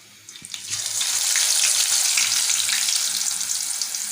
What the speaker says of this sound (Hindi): ये देखें मैं आपके सामने फ्राई कर रहा हूँ।